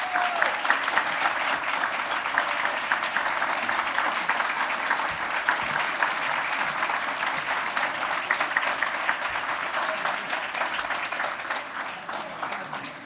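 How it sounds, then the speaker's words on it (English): An audience at a university trustees' scholarship gala applauds steadily for about thirteen seconds, a dense, even wash of clapping that stays loud throughout and eases slightly at the end. "Please stand and let's give them a round of applause"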